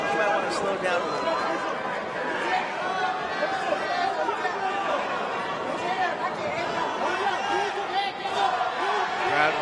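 Crowd at a Road FC mixed martial arts fight event, a steady dense roar of chatter and cheering filling the arena throughout, continuous and moderately loud.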